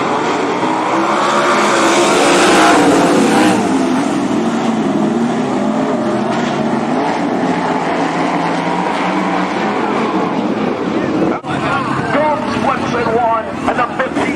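A pack of ASCS sprint cars roars through a heat race at Willamette Speedway, a loud continuous engine drone with rising and falling pitch as cars pass, and a commentator talks over the noise.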